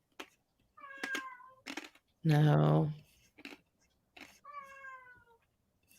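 A pet cat meows several times in clear, close, drawn-out calls, one very loud, with short gaps of quiet and brief talk between them.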